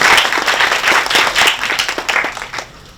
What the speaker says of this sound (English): Oh, you have to clap.